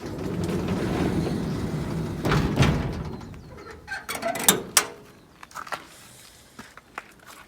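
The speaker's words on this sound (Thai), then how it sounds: "ทิ้งเสร็จแล้วเราก็ปิดประตูนะคะ ปิดประตูให้ มิดชิดค่ะ" The door of a garbage collection shed in Japan is pulled shut, giving a few close knocks and rattles after a stretch of muffled handling noise, followed by scattered light clicks.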